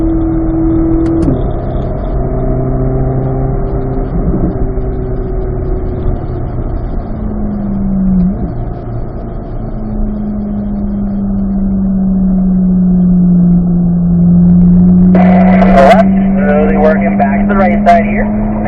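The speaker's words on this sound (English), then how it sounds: "accelerate out. And you're going to line the RPM out here. Up to 4th gear" A car shifting up through the gears toward fourth on a race track, a steady engine drone rising in pitch between gear changes, with someone talking over it throughout.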